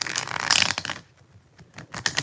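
Tarot cards being shuffled close by in quick riffling bursts, a crisp papery flutter, then a brief quiet gap before another rapid shuffle.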